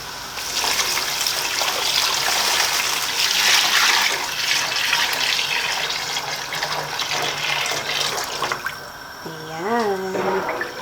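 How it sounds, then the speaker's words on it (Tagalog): Water pours and splashes into a cooking pot while preparing Valenciana, a Batanes rice dish, a steady close rushing stream that continues for several seconds before tapering off. "lagyan na po natin ng tubig."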